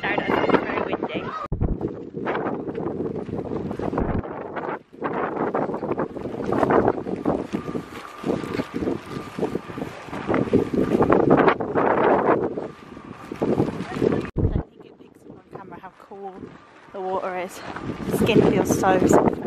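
Gusty wind buffeting outdoors at the Blue Lagoon in Iceland, rumbling against the microphone in uneven surges while a person talks over it.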